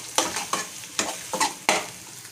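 Boiled potatoes with turmeric are stirred and mashed in a pan, making a series of rhythmic scraping strokes over a soft, hissing sizzle.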